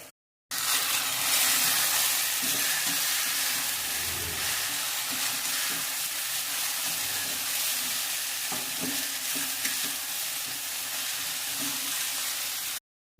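Garlic sizzles steadily in hot oil, with a few soft scrapes and clinks of stirring, close and continuous with no talking.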